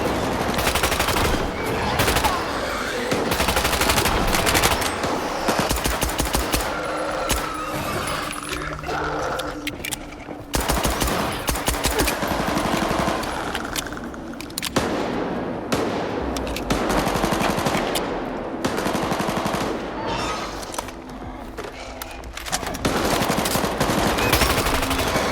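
Gunfire in the shooter game STALKER 2, with sustained automatic bursts and rapid shots echoing continuously through a dense, loud combat mix.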